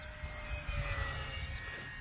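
Electric motor of an Arrows RC P-51 model airplane on a Turnigy 3S battery spins up, a close steady whine with thin high tones over a low buzzing rumble.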